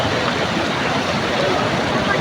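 Fast-flowing floodwater rushes down a street in Pakistan, a loud, continuous broadband roar of churning water, steady and close throughout.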